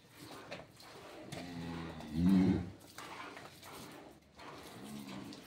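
A dairy cow at a cattle sale of young first-calving milk cows and calves gives one loud, low moo midway through, over steady background noise and faint voices.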